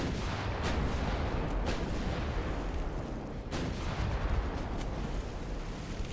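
Naval gunfire in the warship battle game Ultimate Admiral Dreadnoughts, a dense, continuous rumbling barrage with several sharper booming impacts standing out over a heavy, noisy background.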